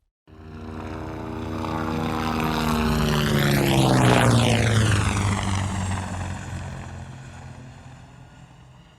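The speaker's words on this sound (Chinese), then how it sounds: "这个就是直升机我们在电影当中能听到的一些音效" A helicopter sound effect for film passes overhead, rising from quiet to a loud, close rotor and engine roar with a sweeping pitch shift, then fading away as it moves off.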